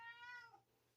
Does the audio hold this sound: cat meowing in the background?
yes